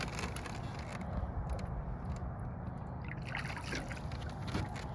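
A large muskie is eased back into lake water after being caught at night in Wisconsin, giving soft trickling and sloshing splashes close by that continue steadily with no talk.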